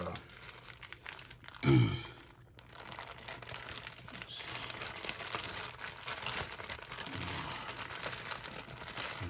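Paper towels crumple in one short, loud crinkling burst while a brisket is trimmed, followed by quieter rustling and handling noise over a steady background hum.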